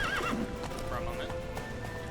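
A horse in Witcher 3 whinnies with rising, wavering cries at the start, over a steady clip-clop of hooves that runs throughout, with busy game sound and voices mixed in.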